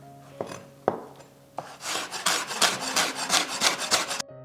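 A knife cuts carrots on a wooden board: a few sharp single chops, then a quick run of rhythmic, scraping slicing strokes, close and fairly loud.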